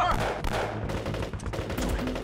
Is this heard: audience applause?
no